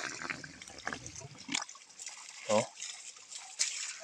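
Spring water trickles and bubbles steadily in a forest in Bukidnon, Philippines, a soft constant flow with a few splashy gurgles, while someone talks over it.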